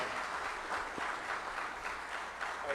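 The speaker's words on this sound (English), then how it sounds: "give Professor Anand a very warm applause" Quiet, distant applause from an audience in an academic hall after an annual lecture, a soft, even patter of clapping that continues without a break.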